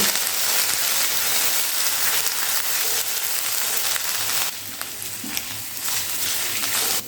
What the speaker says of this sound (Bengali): এবারে পেঁয়াজের সঙ্গে এই মশলাটা আবার একটু ভালো করে ভেজে নিতে হবে